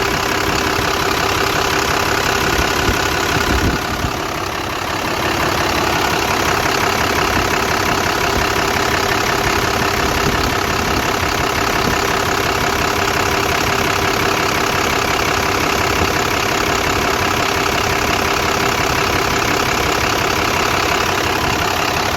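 A fully warmed-up GM truck engine, set up to run on waste oil, idles loud and close in a steady, even rumble with a slight knock, dipping briefly once early on.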